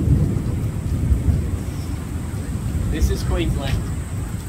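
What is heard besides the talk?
thunderstorm with thunder and rain at Australia Zoo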